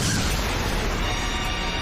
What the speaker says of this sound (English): Player 2 joins the chase, ramming into them, causing a spectacular explosion